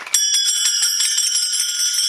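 Taal hand cymbals struck at a kirtan, a bright metallic clash followed by rapid ringing strikes with a sustained shimmering tone, loud and close, played on their own without voices.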